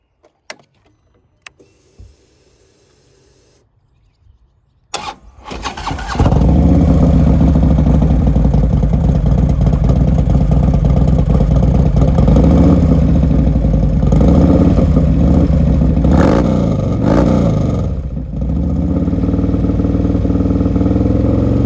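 A 2016 Harley-Davidson Street Glide Special with a 120-inch Screamin' Eagle engine and six-speed transmission starts after a few clicks and settles into a loud, steady, close rumble, rising and dipping briefly near the end with a rev.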